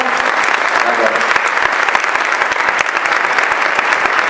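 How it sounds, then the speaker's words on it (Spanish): A convention audience at a Stargate fan event applauds loudly and steadily, a thick continuous wash of many hands clapping from start to finish with no talk standing out. "Un fuerte aplauso."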